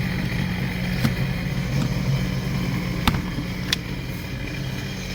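A 2006 Sea-Doo RXT jet ski engine idles steadily while warming up, a constant low rumble with a few faint clicks and taps over it and no revving.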